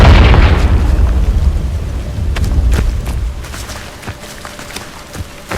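The Confringo blasting spell in Hogwarts Legacy sets off a heavy, booming explosion. Its low rumble decays over several seconds, with scattered debris crackles fading out.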